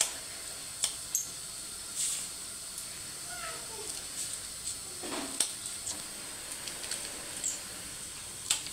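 Kaleji (liver) fries in a pan with a steady, soft sizzle, broken by a few faint pops and small clinks, and no one talks over it.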